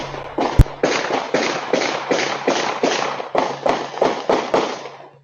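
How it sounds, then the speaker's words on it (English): Gunshots ring out near a Facebook Marketplace meetup gone wrong, caught on CCTV: a rapid string of about ten sharp, loud reports in two bursts, each with a short echoing tail, over a low steady hum. "The CCTV footage shown on screen captured the sound of nearby gunshots"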